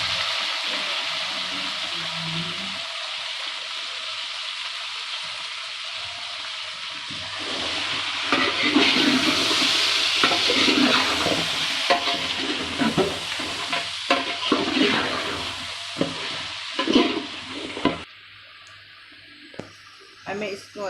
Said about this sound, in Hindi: अब मैं इसको अच्छी तरह फ्राई करूँगी, ये प्याज और लहसुन और अदरक के पेस्ट में